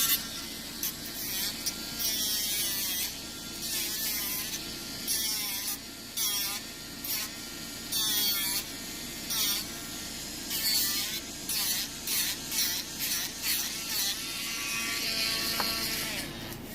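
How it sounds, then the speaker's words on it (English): A small electric sander runs on high while finishing a handmade DeForest-style lock pick, giving a steady, close, whining buzz that wavers slightly as the tool presses and lifts off the metal. "I got the little sander on it."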